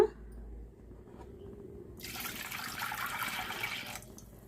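After a quiet moment, water pours steadily from a glass into a cooking container for about two seconds, a close, splashing rush that then stops.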